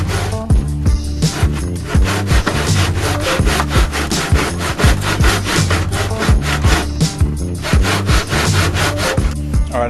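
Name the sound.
hand sawing wood trim corners in a miter box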